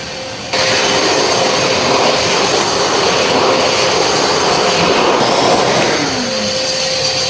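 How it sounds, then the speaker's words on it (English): A small shop vacuum switches on abruptly and runs steadily, sucking up dust in a machine shop with a loud, close whining roar that holds to the end and no speech over it. "I've got a little vacuum back here. I'm going to turn that on so it'll suck up some of the dust there."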